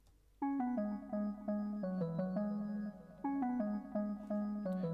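Funky organ patch from Ableton Live plays a melodic line of sustained, bright chords and notes in a steady, rhythmic phrase, loud and alone with no voices.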